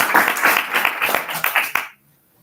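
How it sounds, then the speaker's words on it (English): An audience at a plenary session of a pan-African peace conference in Tanzania claps in a dense, moderately loud round of applause that lasts nearly two seconds and then stops sharply into silence. "Another round of applause."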